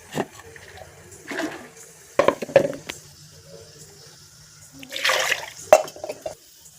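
Water is poured into a pot of ground Mudavattukal soup in a few short splashing bursts, each a brief close gurgle separated by near silence.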